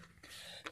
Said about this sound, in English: I don't need to explain my coughing